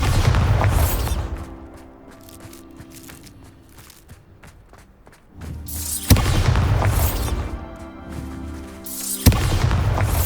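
Bombarda spell explosions in Hogwarts Legacy, a loud booming blast that decays, then two more heavy bursts, each with broad rumbling low end.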